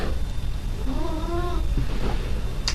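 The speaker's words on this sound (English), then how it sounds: "It's my cat contributing. I don't know if you could hear him." A cat lets out a single drawn-out meow that rises and falls, heard fairly close over a steady background hiss with no talking.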